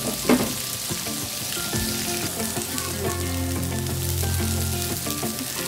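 Bitter gourd (karela) pieces shallow frying in oil in an open pan, a steady close sizzle and crackle with a brief stir or clink near the start.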